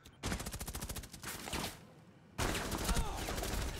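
Rapid automatic gunfire in Rainbow Six Siege, loud bursts of close shots firing in quick rhythm, breaking off briefly before another sustained burst resumes, with a voice shouting faintly underneath.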